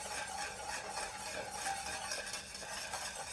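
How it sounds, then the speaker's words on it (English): Steady whisking of a thickening vegan cashew cheese mixture in a pot on the stove, a continuous close scraping and stirring texture that runs unbroken with no voices. "I'm going to keep whisking it though"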